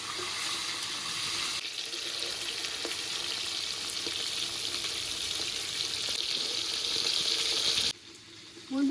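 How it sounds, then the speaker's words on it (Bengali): Pieces of fish sizzle and spit steadily in hot oil, a dense crackling hiss that carries on almost without break before cutting off sharply near the end. "তেলটা গরম হয়ে গেছে এবার মাছের পিসগুলো এক এক করে ভেজে নেব"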